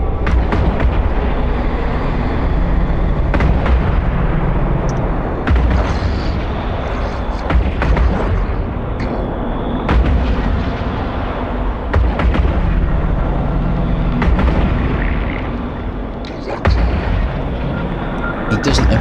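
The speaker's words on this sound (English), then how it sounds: "Right, he's in range, let's open fire." Ship weapons in the EVE Online game fire at an enemy with repeated booming blasts and rumbling impacts over a loud, dense battle bed that lasts throughout, with a voice talking at times.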